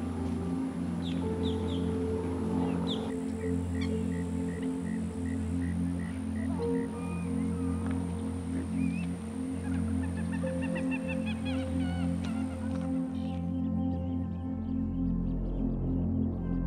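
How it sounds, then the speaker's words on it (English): Sandhill crane calls ring out over a steady low rumble at Circle B Bar Reserve, with repeated honking and trilling cries from several birds, including a chick, at moderate distance. "Here are sandhill cranes and their beautiful chick."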